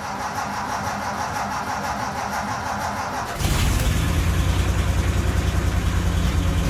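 The MCR21's engine is cranked by the starter with a steady rhythmic churn for a few seconds, then catches and settles into a loud, even running drone.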